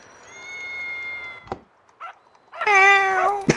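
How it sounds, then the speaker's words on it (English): A cat in GTA 5 gives two distinct meows, a thinner drawn-out one and then a louder, fuller one, separated by a gap with small thumps and clicks in between. "Look, it's a pussycat."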